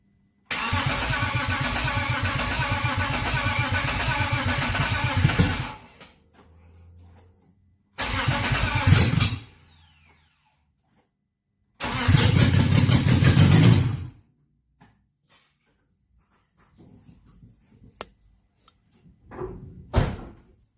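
A rebuilt BMW M52 engine cranks and catches in several loud bursts of starting and revving, broken by silent gaps and a few thuds and clunks like a car door, with no talking.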